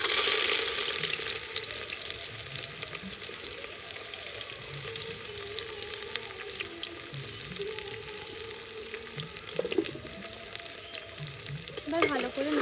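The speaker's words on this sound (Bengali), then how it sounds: "এবার ভালো করে নাড়বো, ভাজা ভাজা হতে দেবো এটা।" Chopped onion sizzles in hot oil with bay leaf, dried chilli and whole cumin in a single pot for a chicken dish, a steady frying hiss with scraping stirs throughout and a few louder clinks near the end.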